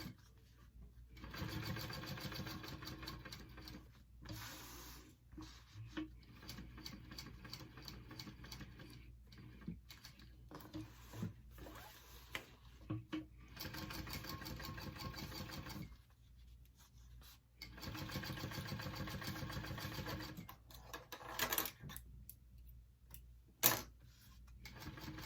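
Sewing machine stitching a line across a mini backpack, running in several long steady bursts separated by short pauses and occasional clicks, close and fairly loud.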